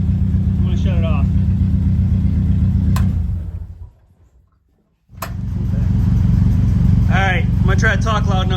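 An old car engine idles with a low, steady rumble, cuts off into near silence for about a second, then restarts with a sharp crank and settles back into a loud idle while someone talks over it.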